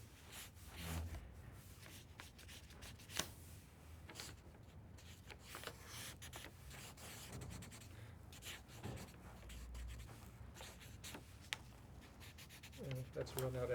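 A pen scratches and rubs across paper in quick, quiet strokes as an animated drawing is made by hand, with faint voices in the background.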